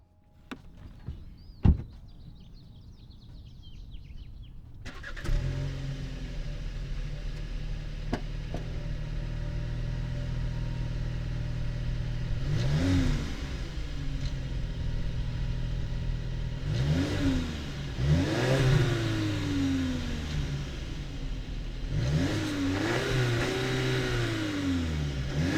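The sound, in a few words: 2020 VW Passat turbocharged 4-cylinder engine starting and revving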